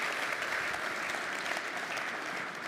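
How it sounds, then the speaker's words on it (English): Conference audience applauding a speaker on stage, a steady dense wash of clapping hands that stays loud and even throughout with no talking over it. "how about a big round of applause for Sune?"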